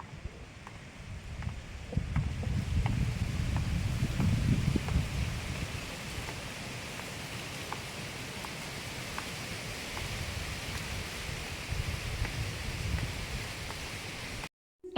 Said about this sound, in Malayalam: മുറ്റത്ത് ഭയങ്കര മഴയാണ്